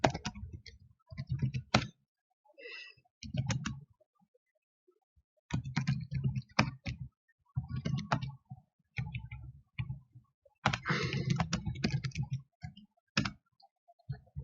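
Computer keyboard typing in irregular bursts of crisp, close clicks and ticks, separated by short pauses, in an otherwise quiet room.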